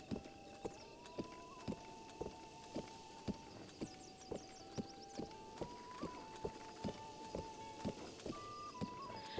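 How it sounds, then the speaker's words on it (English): Hooves of a ridden horse clip-clop at a steady walking rhythm outdoors at sunset, crisp regular strikes at moderate distance over a faint background with bird calls. "I think sunset might be my favorite time to ride the horse."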